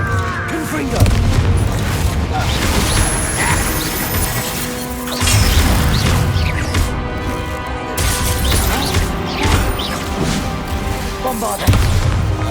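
Blasting magic explosions in Hogwarts Legacy combat crash and boom in repeated loud bursts, layered with clattering impacts and spoken spell calls throughout.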